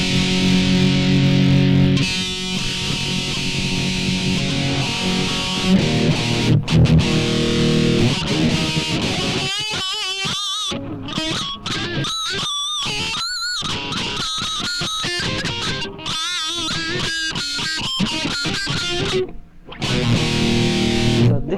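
Electric guitar artificial harmonics played through a distortion effects unit, sustained distorted tones with sharp harmonic squeals and rapid note changes, loud and continuous with no talking.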